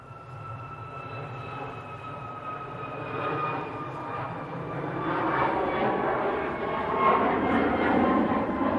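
A Ryanair jet departs Manchester Airport, its engine roar building steadily from a distant whine to a louder, broad rumble with a thin high tone on top.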